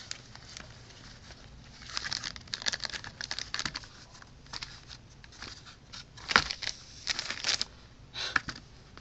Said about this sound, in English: You open up the box.